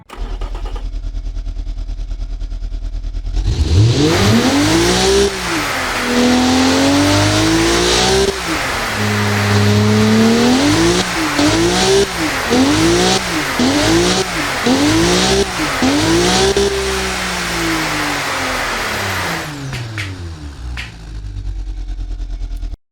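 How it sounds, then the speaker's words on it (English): In a car video game, a Toyota 2JZ inline-six engine fitted to a Mazda MX-5 Miata drift car starts up and revs repeatedly, rising and falling through a series of loud, sweeping pitch swings before settling back to idle. "So here is a brief sound of what the 2JZ engine sounds like in this game."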